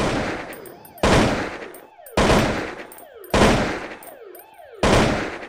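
Gunfire in the Zompiercer video game: four loud, sharp bursts roughly a second apart, each with a ringing decay and mechanical clicks between shots, with no talk.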